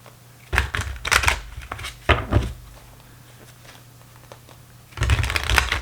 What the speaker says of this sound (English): Oops, now that wasn't a good shuffle.